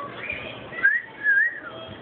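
A pet bird whistles alone at close range, two short rising whistles separated by a brief pause, over quiet room noise.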